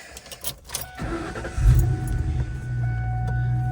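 A Ford Mustang with its check engine light on: a brief jingle of keys, then the engine cranks and catches with a low rumble that settles into a steady, close idle.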